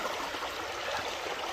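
Creek water rushing and burbling over large rocks and boulders, a steady close hiss of flowing water with no pauses.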